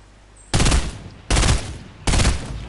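Three loud, sharp hunting rifle shots from Fortnite fire at an even pace, each about 0.8 seconds apart, with a short ringing tail after every blast over a quiet background.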